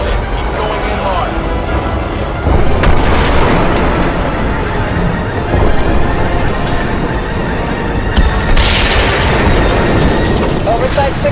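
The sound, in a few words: missile explosion in Crysis 2 video game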